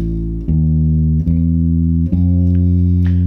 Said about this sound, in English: So let's play this first element of the spider walk exercise.